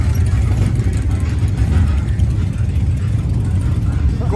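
A motorcycle engine at Myrtle Beach Bike Week, cold after sitting a few hours, running loud and steady with a low rumbling idle close by throughout, with talk over it.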